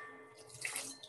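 Water pours into thin pancake batter in a bowl, a brief soft splashing trickle that swells midway, close and quiet, with no voices.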